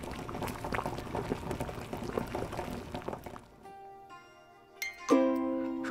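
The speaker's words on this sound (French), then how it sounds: "Je crois que la bouilloire a la bouillue là." Water rolling to a boil in an electric kettle in a home kitchen, a dense bubbling rumble that carries for several seconds before dropping away, then brighter tonal sounds enter near the end.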